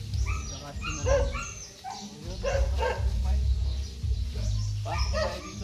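A dog barks repeatedly near the Millennium Balete tree in Aurora, Philippines, the barks fairly close and mixed with voices and steady low background rumble.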